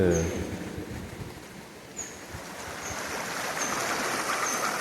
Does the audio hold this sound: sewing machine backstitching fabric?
no